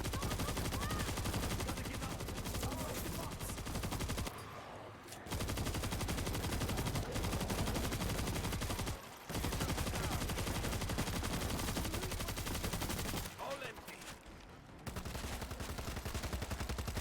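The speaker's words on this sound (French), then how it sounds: "mitrailleuse, arme lourde" A heavy machine gun in the zombie shooter World War Z Aftermath fires in long, dense automatic bursts, loud and close, broken by a couple of brief pauses.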